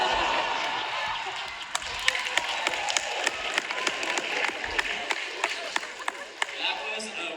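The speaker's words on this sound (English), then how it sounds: "That was a round of applause for a school shooting joke" A crowd at a stand-up comedy set applauds after a joke, with steady massed clapping and crowd noise throughout and sharper individual claps popping out above it.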